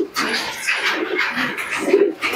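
Several Lal Jiriya pigeons coo in a pigeon loft with nesting birds and eggs, the soft throaty calls overlapping steadily at close range.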